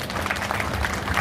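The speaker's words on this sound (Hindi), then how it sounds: "राइट हूं तो ताली बजा सकते हो चाहो।" An audience applauds at a religious discourse held at a diagnostic centre opening, a steady wash of clapping from many hands throughout the brief moment with no talk over it.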